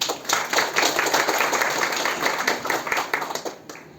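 Audience clapping warmly for the college principal at an alumni reunion event, a steady dense burst of many hands filling the room, then tapering off near the end.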